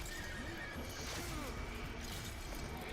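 A horse in the video game Warframe gives a loud, drawn-out whinny over dense game sound effects and background clatter, with hoof-like clopping underneath.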